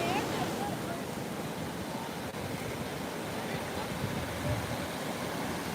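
Ocean surf at Cocoa Beach, Florida washes in a constant broad hiss of breaking waves and wind, steady and fairly loud without clear individual crashes.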